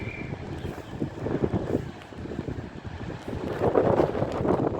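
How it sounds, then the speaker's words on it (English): Strong wind gusting across a railway platform at Leicester station, a broadband roar buffeting the microphone continuously and building louder toward the end, with no talk. "it's really windy"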